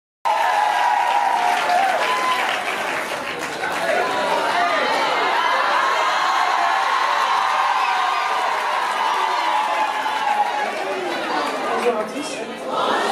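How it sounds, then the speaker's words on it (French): An audience at a university event for the close of Women's Month claps continuously, with scattered cheers and chatter mixed in. The applause is loud and sustained throughout. "sous vos applaudissements"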